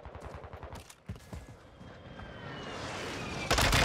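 Gunfire in the Warzone video game with a Vaznev 9k, a rapid burst of sharp shots in the opening second, scattered reports after, then a loud, dense blast of fire near the end.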